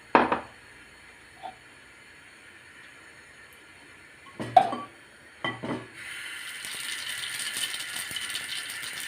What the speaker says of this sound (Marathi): मोहरी आपली मोहरी तडतडलेली आहे